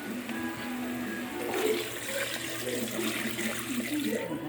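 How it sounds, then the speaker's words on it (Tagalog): Rice washing water poured into a pan holding sautéed shrimp paste and a little oil for a traditional Filipino stew, a steady close pouring and splashing of liquid with no speech. "Pwede na natin itong lagyan ng uh, hugas po ng bigas."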